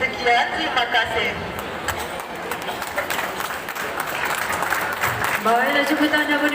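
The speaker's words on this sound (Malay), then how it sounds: "kita berikan tepukan penghargaan dari Muhammad Afiq Zakwan Muhammad Syukri." An audience claps at the final of a Malay classic-literature storytelling competition at WTC Kuala Lumpur, with a burst of applause between stretches of a speaking voice.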